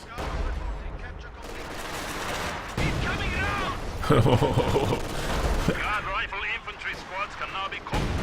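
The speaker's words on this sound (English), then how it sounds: "It does have the howitzer to contend with. Looks like it's firing on this." Howitzer artillery fire in the video game Company of Heroes 2, with repeated booms and battle noise layered under continuous commentary from a speaker.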